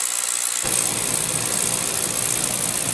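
Riello oil burner firing up during an annual service: a steady hiss suddenly joined by a deep roaring rumble as the flame catches, then a constant loud combustion roar, close and alone.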